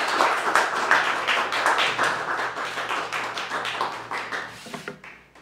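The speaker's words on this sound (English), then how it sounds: "please give a round of applause" An audience claps in welcome for poet Kristen Berger at a reading, a warm, close burst of applause that swells and then gradually thins out over several seconds with no talk.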